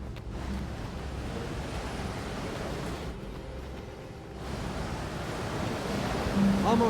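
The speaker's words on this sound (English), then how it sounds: "What is that noise? Kinda sounds like rushing water" Steady rushing water inside a building in the video game I Am Alive: a dense, even wash of noise that runs unbroken for the whole stretch and dips only briefly midway.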